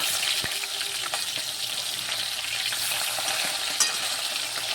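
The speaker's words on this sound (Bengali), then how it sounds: "মাছ ভাজছি," Tilapia fish frying in hot oil, a dense steady sizzle with sharp spattering crackles, close and fairly loud, no voices.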